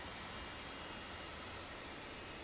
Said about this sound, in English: the engine starter will begin to rotate the right engine.